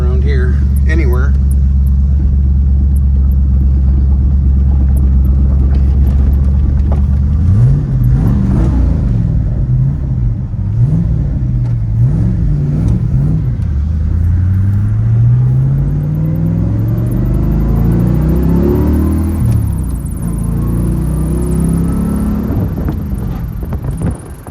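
A 1972 De Tomaso Pantera V8 sports car with a five-speed gearbox rumbles loudly and close, a steady deep idle giving way to repeated revving swells as it pulls away, with some wind noise over the engine.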